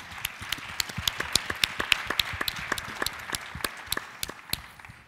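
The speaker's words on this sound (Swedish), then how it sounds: "Och då tycker jag vi ger en varm applåd till Sixten" Applause at a conference event, made up of a modest number of distinct, sharp hand claps in an irregular rhythm that gradually thin out toward the end, heard clearly without talk.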